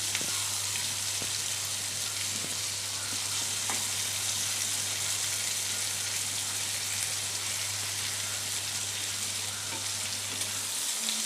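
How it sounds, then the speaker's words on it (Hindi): Okra (bhindi) fries in oil with masala in a pan, giving a steady, dense sizzle throughout with occasional faint stirring clicks and a low constant hum underneath. "इनको बदल बदल के इनको भूनना है ताकि इनमें अंदर तक मसाला और तेल अंदर तक चला जाए।"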